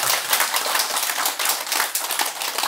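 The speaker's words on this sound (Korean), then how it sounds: "우리 미주한테 박수 좀 한번 쳐줘" Audience applause at a Buddhist dharma talk, a dense steady wash of many hands clapping together, fairly loud and continuous throughout with no voices on top.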